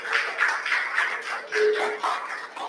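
An audience claps for the winning team at a Roblox festival finals event, a brisk, fairly close round of applause with a few uneven bursts lasting a few seconds.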